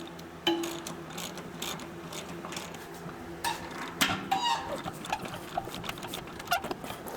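A check valve being screwed into a homemade shop compressor, giving soft ratchety metal clicks and small scraping taps at close range that come in uneven bursts, with no speech.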